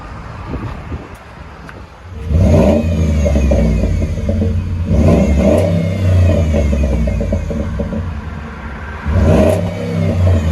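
A Ford F-150 with a 5.0L Coyote V8 and an aftermarket exhaust idles with a low rumble, then revs in three strong blips, each rising and falling loudly close by, with the deep exhaust note dominating.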